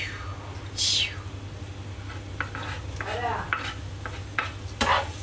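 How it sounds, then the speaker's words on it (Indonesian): Garlic sizzling faintly in oil in a home kitchen while a utensil stirs and scrapes the pan, with intermittent clinks and a steady low hum underneath. "tumis bawang putih tu"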